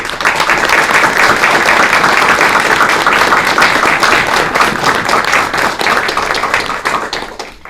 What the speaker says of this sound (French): je pense qu'on peut vous applaudir très fort